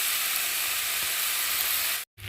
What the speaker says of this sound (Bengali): একটু মশলার সাথে ভালো করে কষিয়ে নেব।